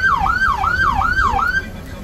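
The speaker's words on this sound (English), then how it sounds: "and then you got the yelp." An emergency vehicle siren controller sounds its yelp tone, giving four rapid, loud rising and falling electronic wails close by at a NASCAR race in Dover, Delaware.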